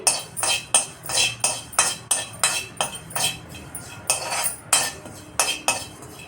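Cumin seeds dry roasting in a pan, stirred with quick rhythmic scraping strokes, about two per second, loud and close, with a faint rattle of the seeds between strokes.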